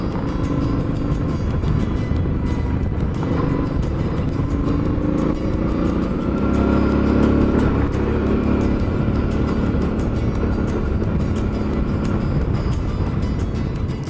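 Suzuki V-Strom motorcycles ride over a corrugated dirt road on the edge of the outback near Hancock's Lookout. Engine drone and rattling road noise stay steady and fairly loud throughout, swelling slightly midway.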